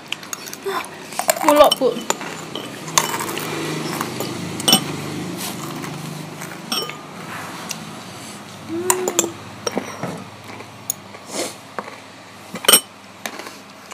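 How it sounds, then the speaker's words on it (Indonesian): Metal spoon clinking against dishes, close and busy, with irregular taps and scrapes while a person briefly speaks. "Berisik sumpah sendokku."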